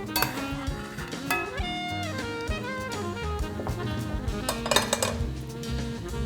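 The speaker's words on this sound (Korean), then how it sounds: "잘 익은 면을 체에다가 건져줄게요." Metal utensils clink and scrape against a pot and sieve as cooked pasta is scooped out for a cauliflower pasta dish, with a busy run of small clatters throughout.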